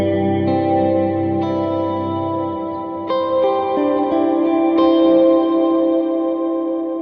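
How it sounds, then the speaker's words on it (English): Electric guitar notes ring out one after another, each washed in heavy, lingering reverb that lets them blend into a sustained ambient wash. "So that's a standard reverb sound, a nice ambient sound you might want to use"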